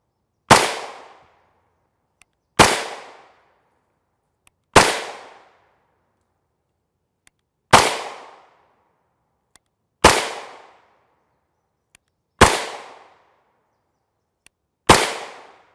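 Seven sharp, loud gunshots fired at a slow, irregular pace from a 5.7x28mm firearm loaded with Detroit Ammo Co 55-grain full metal jacket plinking rounds, each crack decaying quickly into silence.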